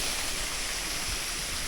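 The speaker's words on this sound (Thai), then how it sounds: "น้ำตกตาด" Tad waterfall in a forest near a rural lodging, heard as a steady, close, full rush of falling water with no pauses and no voices.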